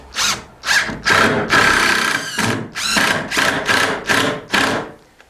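A power drill drives a self-drilling screw into the wooden frame of an exterior door, whining in about eight short bursts of varying length separated by brief pauses, loud and close.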